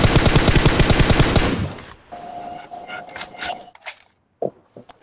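Rapid automatic gunfire from the video game PUBG rattles loudly in a fast burst for over a second, then cuts off, followed by scattered quieter clicks, thuds and shorter sounds.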